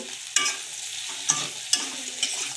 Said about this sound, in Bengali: আস্তে দিয়ে ভাজছি যাতে খুব তাড়াতাড়ি পুড়ে না যায়